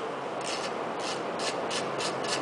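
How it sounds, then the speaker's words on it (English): A ratcheting wrench works loose the bolts on a small engine's shroud, giving a rapid rasping click in short bursts, roughly six strokes in quick succession, close and steady. "I'm going to loosen all the bolts first."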